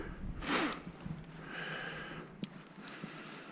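Close, quiet nasal sniffles from allergies during a buggy build, with a few short airy sniffs and breaths spread over a few seconds.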